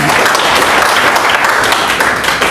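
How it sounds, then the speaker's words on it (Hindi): An audience at a network business training session breaks into loud, sustained applause, a thick continuous roar of many hands filling the room. "जरा एक बार जबरदस्त ताली बजाइए जरा आप"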